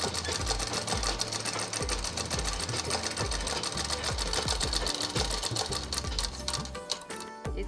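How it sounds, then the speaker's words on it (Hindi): A sewing machine stitches fabric from the reverse side while tailoring an umbrella frock, running in a steady, rapid mechanical rhythm that stays loud and close through nearly the whole stretch before a brief pause near the end. "उल्टे कपड़े पे सिलाई करेंगे।"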